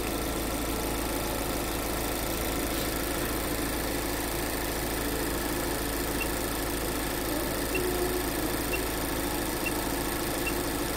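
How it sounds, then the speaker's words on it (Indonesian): An engine running at idle gives a steady, fairly quiet mechanical hum that stays even and unbroken, with no speech over it. "ini sekarang mesin dah nyala ya."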